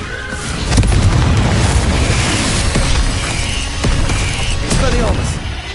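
Confringo blasting spell explosions in the video game Hogwarts Legacy, several booming bursts across a few seconds, loud and near, with a shouted incantation among them.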